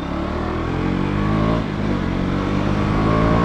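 A BS6 KTM Duke 200 motorcycle pulls hard in second gear, its engine note loud, close and continuous with a strong buzzing drone that swells slightly as it accelerates, with no other sounds over it.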